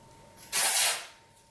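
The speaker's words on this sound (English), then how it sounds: "I just like to go through and spray in between the parts or the sections" Dry shampoo sprayed onto sections of natural hair in a protective style, a single short aerosol hiss about half a second long, close and fairly soft.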